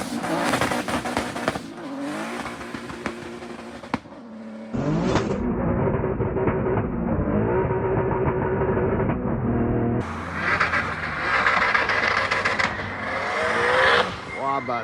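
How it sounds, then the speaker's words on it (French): A remapped, tuned performance car on a test drive, its engine revving hard and rising through gears, loud and close, with tire noise and bursts of acceleration, voices briefly talking over it. "c'est le grand gourou Teddy qui va l'essayer pour être sûr qu'il n'y ait pas de problème dans toute la voiture"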